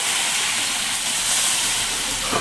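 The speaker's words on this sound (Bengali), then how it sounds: "এবার আমি সামান্য পরিমাণে একটু জল দিয়ে দিচ্ছি" Water splashed into a hot pan of pumpkin curry bursts into a loud, steady steam hiss that fills the whole moment, bright and close, with no voices over it.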